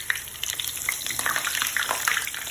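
Eggplant slices fry in hot oil, giving a dense, continuous crackle and pops with faint stirring, close by and alone, with no voices.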